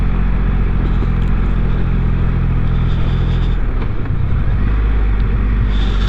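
A Triumph Rocket 3 motorcycle's big triple-cylinder engine drones steadily while ridden on a dark commute, a loud low rumble with wind and road noise, the pitch shifting slightly midway as the throttle changes.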